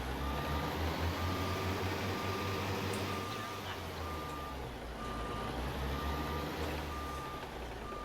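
Repeated reversing beeps from a truck in American Truck Simulator, a Kenworth K100 day cab, sound at a steady even rhythm over a continuous low diesel engine rumble, with no talk.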